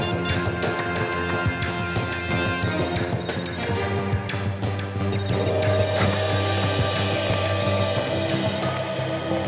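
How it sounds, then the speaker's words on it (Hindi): A telephone ringing in repeated electronic tones, heard amid dense music and mechanical background noise, moderately loud throughout. "हाँ फोन की रिंग जैसी आवाज है"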